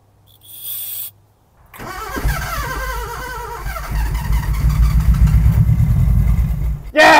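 A 1974 Honda Civic, parked for 14 years, cranks briefly, then its engine catches and runs as a loud, steady low idle that gradually builds, with a short burst of cranking at the very start.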